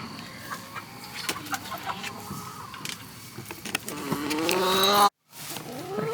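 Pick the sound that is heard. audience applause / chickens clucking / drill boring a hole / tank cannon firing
chickens clucking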